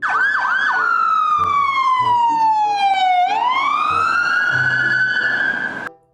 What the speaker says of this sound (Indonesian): Wow, ambulans.